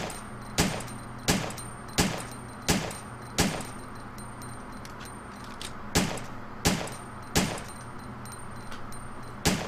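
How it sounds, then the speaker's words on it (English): Gunshots fired to empty a cartridge in Resident Evil 3 on GameCube ring out as about a dozen sharp, evenly spaced single reports, with a short gap midway and no speech. "I'm just going to waste the 20 rounds here to empty out this cartridge."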